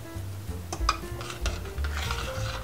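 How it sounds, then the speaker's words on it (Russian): A spoon stirs pea soup with smoked meats, potato, carrot rings and bay leaves in a pot, giving a few soft scrapes and light knocks close by, with a faint steady background hum and no talking. "Перемешиваем."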